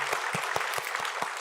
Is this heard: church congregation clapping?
yes